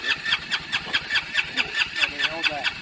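A Honda engine with water in the exhaust cranks with a rapid rhythmic chugging, a starter turning over repeatedly as it tries to catch, close and fairly loud.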